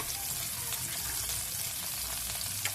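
Steak sizzling in a hot pan, a steady bright crackling fry that runs continuously with a few pops near the end.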